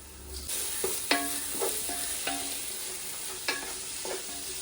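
Tomatoes sizzle steadily in a hot pan while a metal spoon clinks and scrapes against it several times as they are stirred.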